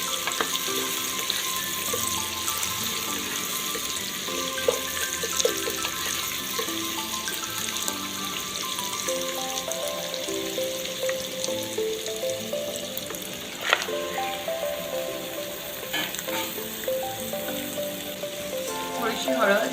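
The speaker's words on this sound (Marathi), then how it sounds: "याच्यामध्ये मी आधी मटण कमीत कमी 15 मिनिटं तरी याच्यामध्ये शिजवून घेणार आहे" Mutton cooks with three onions in a pan of oil for a Saoji-style curry, making a continuous moderate sizzle with scattered clinks, stirring scrapes and some watery splashes in the background.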